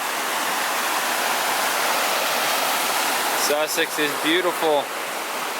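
A small waterfall called Crow Meadow Falls pours in a steady, loud broadband roar, close by and unbroken throughout, with someone speaking briefly over it near the end.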